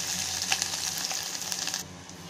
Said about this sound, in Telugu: తాలింపు దినుసులు వేగిన తర్వాత ఉల్లిపాయ ముక్కలు.